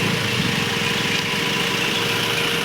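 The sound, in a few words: used car engine idling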